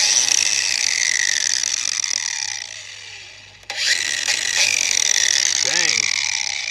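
An angle grinder spinning a chainsaw disc, giving a loud, steady high-pitched whine that eases down, briefly cuts out, then surges back up to full speed, with a voice briefly heard near the end.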